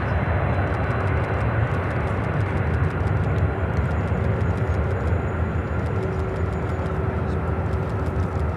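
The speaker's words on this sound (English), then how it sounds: "Got that Asiana Cargo Queen over here" An Asiana Cargo Boeing 747 jet at Chicago O'Hare Airport sends out a continuous heavy engine rumble and hiss, steady and fairly loud throughout with faint ticking over the top.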